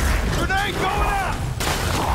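A grenade goes off in the Spider-Man 2 video game on PS5, a muffled boom and rumble under a game character's shouting, with a sharp cutoff near the end.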